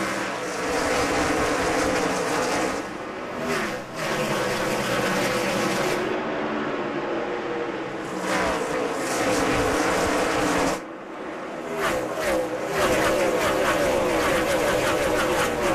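A pack of NASCAR stock cars at the 2007 Food City 500 roars into turn 1 on a restart, loud engine blasts swelling and fading in repeated waves as the cars pass close by.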